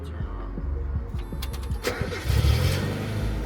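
A cheap Mazda Miata being started: the starter cranks in quick repeated pulses, then the engine catches and settles into a rougher idle, with people talking over it.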